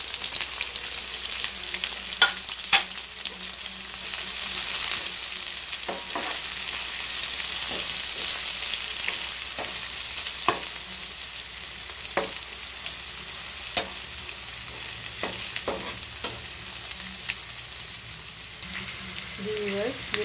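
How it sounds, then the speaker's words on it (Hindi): Onions, five green chillies and spices frying for mixed lentil dal, a continuous sizzle broken by frequent stirring clicks and scrapes of a spoon in the pan, with a voice speaking intermittently over it. "इनको भी मैं फ्राई करूँगी थोड़ा सा। और ये बाकी मसाले भी मैं इसमें ऐड कर रही हूँ।"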